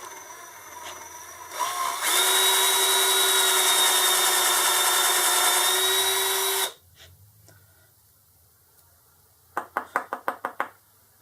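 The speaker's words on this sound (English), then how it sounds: "And then I've got a hole bored" A power drill bores steadily into a handmade fire steel handle for about five seconds, a loud continuous whine that cuts off abruptly, followed later by a quick burst of sharp knocks.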